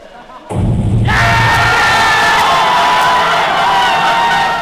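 A loud Mi Fans crowd at a Xiaomi launch event erupts in cheering and shouting after a brief quiet moment, holding a dense, sustained roar with whoops and possible horn-like tones.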